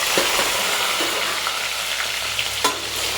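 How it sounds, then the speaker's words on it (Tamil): Spices sizzle and crackle in hot oil for tomato rice, with a dense, even frying hiss and a few sharper pops and stirring scrapes. It is close and steady, with no talk. "இந்த மசாலா ஐட்டம் எல்லாத்தையும் அதில் போட்டுக்கலாம். நல்லா பொரியட்டும்."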